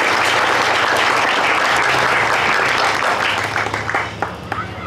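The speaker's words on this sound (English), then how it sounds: "Can we get a round of applause for Chris" Sustained applause from an outdoor Flag Day gathering in Batavia, a dense steady wash of clapping that holds for several seconds and thins toward the end as a few louder claps stand out.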